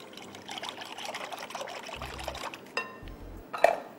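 Milk and eggs for a mango bread pudding are poured into a bowl in a steady trickling stream for about three seconds, ending with a sharp clink close by.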